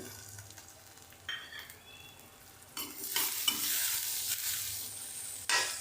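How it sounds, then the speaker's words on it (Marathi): Tomatoes, red chili powder and spices are stirred in a frying pan, with gentle sizzling at first that grows into louder scraping and spattering as the spoon mixes them, close and with no talking. "एकत्र मिक्स करून घेऊया"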